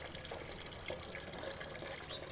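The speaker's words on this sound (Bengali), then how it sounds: "তাই ভালো করে কৃষ্ণাটা ধুয়ে নিলাম।" Tap water runs steadily while a stone mortar is rinsed clean in a city-home kitchen, a continuous close splashing hiss with no talk.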